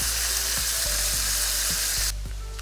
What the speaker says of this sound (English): I'm gonna take a bit of lime juice and a little bit of butter and just squeeze it in here